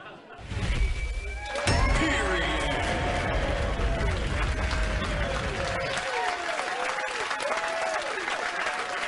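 Studio audience at a late-night comedy talk show bursts into loud, sustained applause with cheering and whoops, a dense wall of clapping filling the room throughout.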